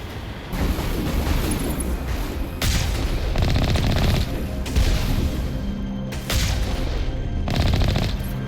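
Rapid bursts of turret fire and heavy explosive blasts in Mass Effect, loud and sustained, with repeated volleys separated by brief gaps.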